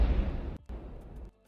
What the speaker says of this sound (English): Good Lord, give me an explosion.